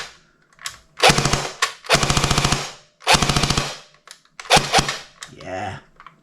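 A P90 airsoft gun upgraded with cheap parts fires on full auto in four short, rapid bursts of tightly spaced clicking shots, separated by brief pauses, close and clear with faint mechanical whirring after the last burst.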